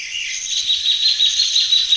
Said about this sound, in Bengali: অনেক ধরনের পাখিতে কিন্তু ডাকছে